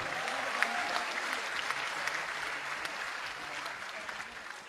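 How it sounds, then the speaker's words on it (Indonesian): A crowd at a student protest rally bursts into sustained, dense applause that stays steady and fairly loud throughout, with scattered sharper claps standing out from the mass. "Tepuk tangan buat kita semua."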